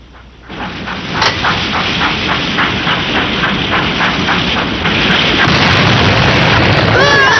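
Cannon fire over water in a Tom Sawyer cartoon, with a burst of booms and a sustained rumbling roar that swells after the first second. A voice speaks over the noise.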